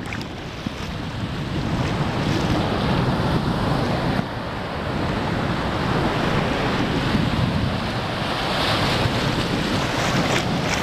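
Ocean waves and strong wind at the beach, captured through a plastic bag over the camera: a dense, continuous roar of surf with buffeting wind noise, loud and close, no talk.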